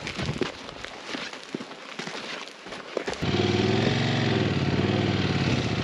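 A motorcycle engine starts up on a sandy Saharan track in Morocco after scattered shuffling and movement noises, then idles steadily and fairly loud with a pulsing, wavering drone.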